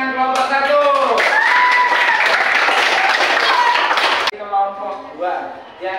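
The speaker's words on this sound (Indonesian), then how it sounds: "Beri tepuk tangan kelompok 1" Brisk classroom applause for a student group breaks out over a sustained tonal voice or hum, lasting about three seconds before cutting off abruptly, after which the tonal sound continues alone.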